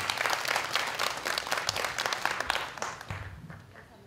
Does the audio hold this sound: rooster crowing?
no